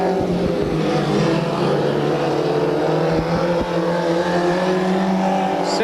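Micro sprint race cars, Toyota-powered mini sprints at a Visalia memorial race, drone loudly around the track with layered, overlapping engine notes that swell and fade continuously as the pack circles.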